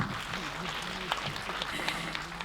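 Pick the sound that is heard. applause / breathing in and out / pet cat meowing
applause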